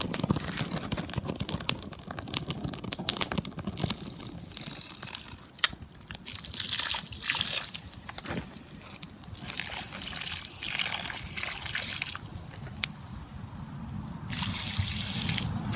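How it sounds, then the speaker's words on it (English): Water is poured slowly onto a scout campfire to put it out, giving a continuous close trickling and splashing with uneven bursts and fizzing over about sixteen seconds. "Now, we're going to use water and slowly pour it on."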